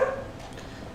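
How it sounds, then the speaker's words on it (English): A dog gives a single short bark at the very start, fairly faint and set back from the microphone, then only quiet room tone follows. "that's my dog barking"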